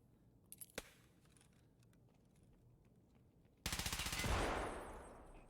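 MCX rifle gunfire in a battle royale shooter, ending in a headshot: faint clicks early on, then a loud, rapid automatic burst that rattles close by and decays into a ringing tail.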